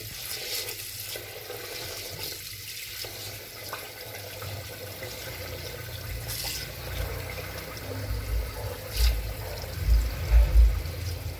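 Water runs and splashes steadily into a pot for cooking rice, a continuous liquid hiss that swells with louder gurgling bursts toward the end.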